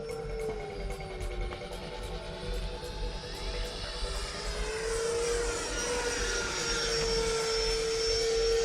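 A radio-controlled jet airplane flies past with a steady, loud whining turbine-like drone whose pitch bends down and then rises as it passes, swelling slightly louder toward the end, with no voices.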